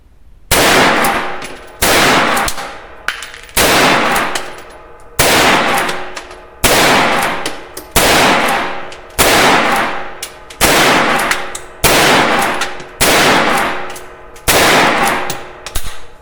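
Rifle shots from a Winchester 9422M lever-action, about eleven sharp reports at a steady pace roughly every one and a half seconds, each loud and close with a ringing decay and no talk between them.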